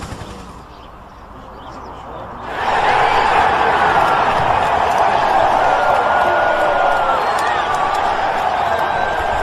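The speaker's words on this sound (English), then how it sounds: "They're cheering for me." A large crowd cheers loudly and continuously after a quieter opening, a broad roar swelling in and holding steady through to the end.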